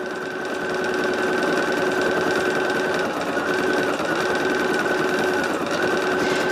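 An embroidery machine stitches a Santa design, a steady, loud mechanical whir with rapid needle chatter that runs continuously throughout with no talking.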